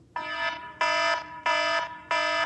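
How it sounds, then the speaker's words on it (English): A wake-up alarm sounds four evenly spaced, loud buzzing tones, each about a third of a second long with short gaps between them, with nothing else heard. "I want all of you to change your alarm from this"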